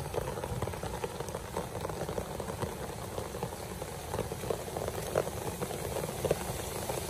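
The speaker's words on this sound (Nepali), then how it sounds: "झर्न त यहाँ छ" A waterfall rushing in a steady, dense roar of falling water that holds an even level throughout, with no voices.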